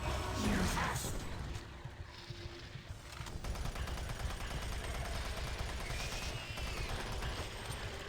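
Rapid enemy gunfire in Doom 3 BFG Edition, a loud continuous rattle of shots with crashes and impacts, dense and unbroken throughout.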